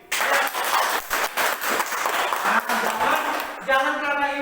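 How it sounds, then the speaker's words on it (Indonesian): Applause in a classroom for a student named Siwi, a dense burst of clapping that fills the opening seconds at close range, with a voice speaking over the end. "Tepuk tangan dulu buat Siwi"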